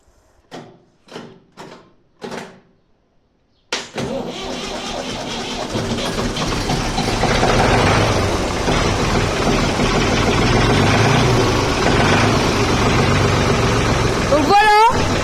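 A Ford 3055 tractor engine catches abruptly after a few short voice-like bursts, then settles into a loud, steady rumbling idle that runs close-up to the end.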